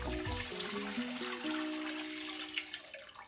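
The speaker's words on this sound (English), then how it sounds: "and then I'm going to add in the water" Water pouring into a pot of plant-based gumbo, a steady close splashing and trickling stream with a ringing tone that shifts in pitch as the pot fills, then fades.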